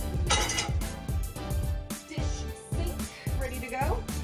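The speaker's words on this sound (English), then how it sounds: "And then take my little Danish whisk out." A small Danish dough whisk folds thick apple fritter batter in a bowl, making soft scraping and stirring sounds broken by light clinks against the bowl.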